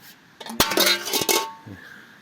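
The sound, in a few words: dishes clinking as dogs lick them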